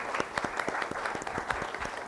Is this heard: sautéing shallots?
no